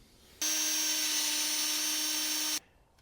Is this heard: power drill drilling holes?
yes